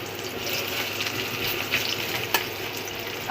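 Chopped onions fry in hot mustard oil with a steady, close crackling sizzle, a few louder pops breaking through the even hiss.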